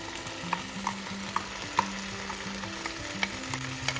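Prawns sizzling in a pan with curry paste for a Goan prawn curry, a soft continuous fry punctuated by a handful of light scraping clicks from stirring, quiet and close with no speech.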